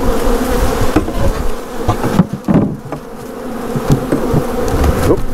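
A swarm of honeybees hums loudly and continuously as packaged bees are shaken into a hive, with a few dull knocks from the box under the dense buzz.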